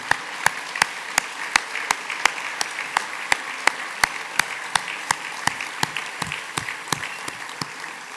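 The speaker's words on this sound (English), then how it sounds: "The applause was nice" Applause at the 2019 Upper Midwest Emmy Gold & Silver Circle honors ceremony, a steady bed of clapping with a regular series of sharp, evenly spaced loud claps standing out above it, about two per second.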